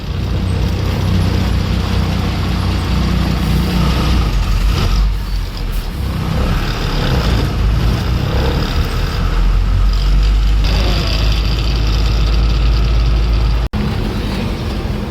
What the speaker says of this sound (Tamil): பாரத் பென்ஸோட பதினாறு வீல் சேஸ் போகுது பாருங்கள்